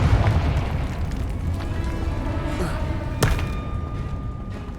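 A Confringo spell from the game Hogwarts Legacy lands as a single sharp burst with a rumbling tail, loud over a low, busy game background.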